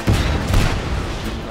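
Explosions and gunfire in the video game Just Cause 3, a loud rumbling blast with overlapping shots, close and dense for about a second and a half.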